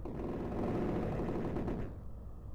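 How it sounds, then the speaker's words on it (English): A dense, roaring blast from a video game, like a tank exploding, rumbles loudly for about two seconds before cutting off into a thin fading tail. "I heard an explosion, like something exploded, like a tank or something."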